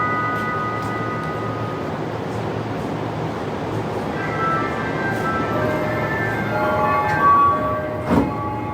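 Steady rumble of a Tokyo subway train riding the rails, with a brief bright tonal whine and a short louder clunk near the end.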